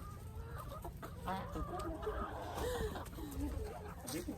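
A just-caught buff hen clucks and squawks in a run of close, agitated calls rising and falling, with faint voices murmuring in the background.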